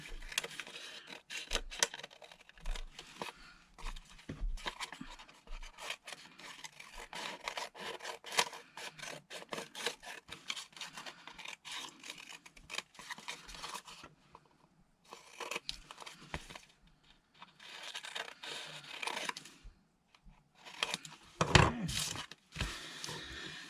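Close, quiet snipping and rustling as scissors cut through dyed paper in repeated bursts, with short pauses between runs of cuts.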